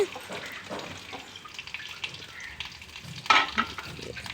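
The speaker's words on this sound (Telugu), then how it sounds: "ఇవన్నీ బాగా కలర్ మారేదాకా వేయించుకోవాలండి" Oil sizzles and crackles steadily in a pan as dried red chillies fry, with a sharper burst of spattering near the end.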